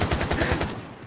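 Rapid video-game gunfire, a fast rhythmic burst of about eight close, loud shots in under a second, fading slightly at the end.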